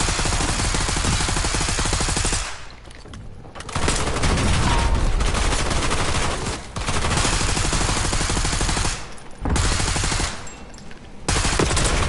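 Sustained bursts of automatic gunfire in the video game Warzone, loud and close, rattling rapidly with brief pauses between strings of shots.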